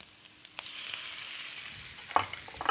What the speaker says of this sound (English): it's all about stir frying quite quickly.